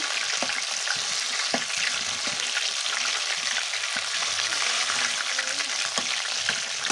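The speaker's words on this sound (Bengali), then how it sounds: "তো এগুলোকে আমি এখন সুন্দর করে লাল লাল করে ভেজে নেব।" Mushroom chops deep fry in hot oil, a steady bubbling sizzle with scattered clicks and taps of turning, close and even throughout.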